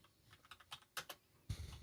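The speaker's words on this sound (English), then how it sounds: "I got to do one-handed typing on this" Keys tap on a computer keyboard typed one-handed, a sparse, uneven run of soft clicks with small pauses, close and quiet with no talk.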